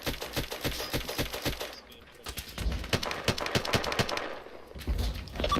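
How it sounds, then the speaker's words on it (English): Sustained gunfire in the ARMA 3 military game as troops shoot into a town, rapid repeated shots in bursts, some near and some farther off, loud and continuous across the whole stretch. "shooting into the town"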